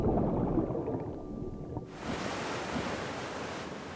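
Ocean waves washing in a steady, moderately quiet rush, with a change in texture partway through as the surf noise brightens, no voices.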